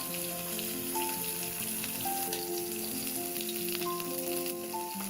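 Dried chepa fish fry lightly in mustard oil in a pan, giving a steady, close sizzle that runs unbroken throughout, with a faint tonal hum underneath.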